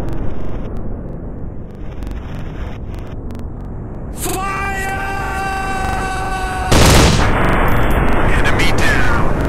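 Gunfire in the Counter Strike Commando Mission mobile game: loud, dense bursts of shots over a rumbling, busy battle bed, with a tonal in-game sound in the middle and a louder blast of fire near the end.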